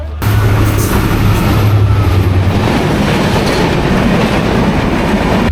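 A train stands at Ahsanganj railway station in Bangladesh, its loud, steady rumble and engine drone filling the scene continuously and up close, with a low hum throughout.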